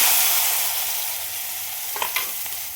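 Okra being stir-fried in a hot spiced tempering with red chilli powder, a steady close sizzle with a few louder scraping stirs near the end, no talk.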